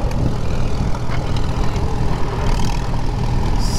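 A 1939 Farmall H tractor engine runs in third gear, a loud steady low chugging rumble close by with continuous mechanical clatter.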